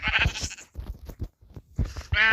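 Goats bleat in the Minecraft video game: several loud, wavering bleats open the clip, then quieter scattered calls, a pause and another strong bleat at the end.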